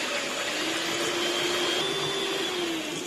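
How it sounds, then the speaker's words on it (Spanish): An electric hand mixer whisks egg whites to stiff peaks for a sponge cake and flan, a steady high-pitched motor whine running continuously with no talking. "Bueno, voy a batir."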